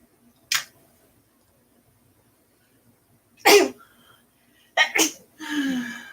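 Several sharp sneezes, close and loud, spaced apart with quiet between, followed by a brief breathy sound at the end.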